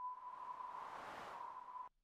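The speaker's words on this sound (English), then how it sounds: "Okay, so that's a low-pass filter," Noise sent through a low-pass filter in SuperCollider gives a steady, hissing electronic whoosh with a thin whistling ring at its centre. It holds for about two seconds and then cuts off abruptly.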